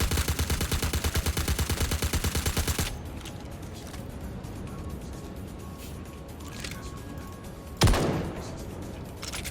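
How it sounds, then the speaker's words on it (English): Rapid automatic gunfire in Star Citizen, a steady rattling burst for about three seconds, followed by quiet ambience, a single sharp loud shot or impact near the end. "I'm gonna shoot your flag."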